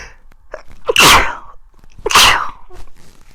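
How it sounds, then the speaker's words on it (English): Two loud sneezes about a second apart, each with a sharp intake and burst, close to the microphone with quiet breathing between. "Oh my gosh, I'm going to have to sneeze."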